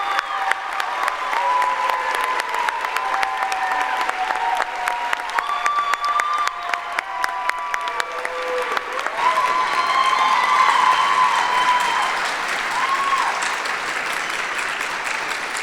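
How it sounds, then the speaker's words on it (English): Audience applause at a spring university convocation, a loud sustained round of clapping with some cheering and whistles, steady throughout and swelling slightly toward the end. "there was already a big roar of applause for our family and friends who are here"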